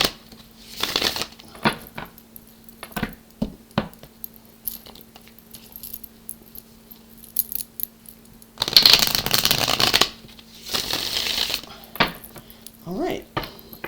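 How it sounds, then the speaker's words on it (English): A deck of oracle cards is shuffled in several separate bursts, crisp riffling rattles between quiet pauses, close and fairly loud. "Just a couple shuffles here left to go,"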